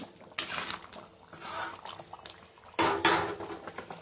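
Mutton curry with new potatoes being stirred in a pot after garam masala powder is added, a few clanking, scraping spoon strokes against the metal, close and fairly quiet.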